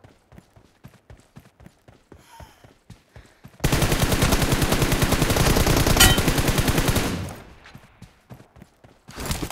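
Video game gunfire: scattered single shots, then a long sustained machine-gun burst lasting several seconds, then more spaced shots, loud and close with no talking.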